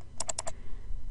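Four quick, crisp clicks from a computer keyboard come in a tight burst and are followed by a quiet background hiss, with no voices present.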